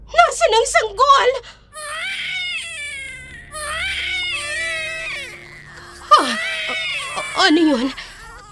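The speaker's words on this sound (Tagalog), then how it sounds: "May naririnig akong mga iyak ng sanggol." Several newborn infants cry together in loud, close overlapping wails and whimpers, sobbing in strained bursts with short pauses between rising cries.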